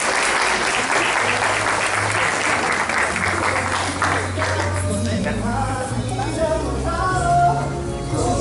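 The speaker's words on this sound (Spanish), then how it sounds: "Un aplauso más caluroso de más estilo" Sustained applause from a large crowd at a quinceañera, steady and loud throughout, with a low musical hum and some voices underneath.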